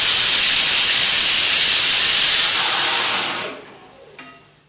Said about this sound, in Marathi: इकडे आता माझ्या कुकरच्या शिट्ट्या सुद्धा झाल्यात